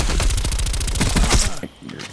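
Rapid automatic fire from an MP5 submachine gun in Black Ops Cold War, a loud, steady stream of evenly spaced shots for about a second and a half before cutting off into quieter game ambience.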